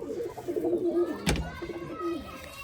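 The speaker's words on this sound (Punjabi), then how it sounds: "ਇਹ ਕਿੱਥੇ ਦੀ ਕਬੂਤਰੀ ਜਿਹੜੀ ਨੱਠੀ ਸੀ ਆ ਬੈਠੀ ਹੈ" A female pigeon settling back onto her eggs gives low, repeated coos up close, broken by one sharp click midway, with faint talk in the background.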